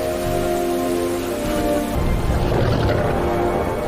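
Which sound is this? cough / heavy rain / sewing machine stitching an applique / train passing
heavy rain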